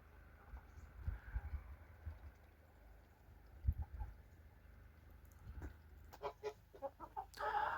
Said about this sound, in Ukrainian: Кури вже порозбредалися